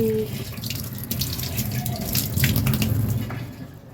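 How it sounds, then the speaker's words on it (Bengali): Cut ripe papaya pieces being rinsed under a running tap, a steady splashing stream of water hitting fruit and sink, close and continuous with slight fluctuations throughout. "এই যে পেঁপেটা ধুয়ে নিয়ে আসছি"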